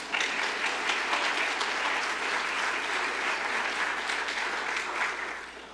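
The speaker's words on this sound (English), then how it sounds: "Give yourselves a round of applause." A crowd at a panel discussion applauds itself, a steady, full wash of clapping that carries on evenly for several seconds without a break.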